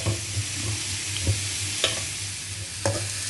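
Chopped cabbage sautéing in a pan: a steady, close sizzle broken by a few sharp scraping stir clicks at uneven intervals, with a low hum underneath.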